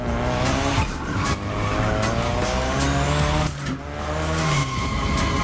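In TC Motorfest a car drifts and spins out, tires squealing in long wavering stretches over a loud, steady engine roar, with brief dips in intensity.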